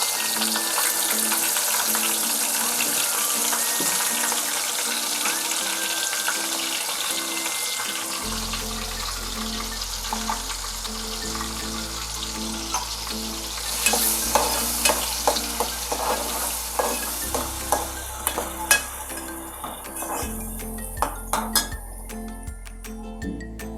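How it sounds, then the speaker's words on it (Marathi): Ground masala paste for a Koli-style bangda (mackerel) curry sizzles steadily in a pan while being stirred, with a spoon clinking and scraping against the metal more often toward the end. "वाटण टाकते."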